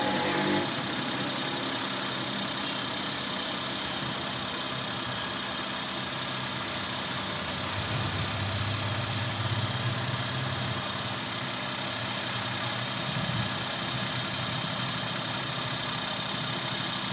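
A Suzuki Alto with a manual gearbox idles after a cold start, its small engine humming in a steady close drone with a slightly rough, knocking texture that holds throughout.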